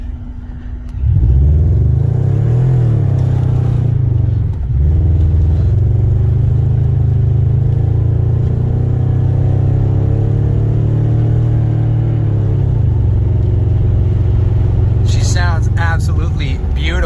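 A Subaru with an aftermarket Tsudo catback exhaust drones loudly and steadily as it drives, a deep boomy exhaust tone holding for several seconds, with a short higher whine near the end.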